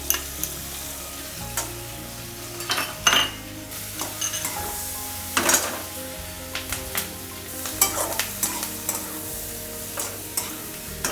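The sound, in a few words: garlic frying in a pan for pasta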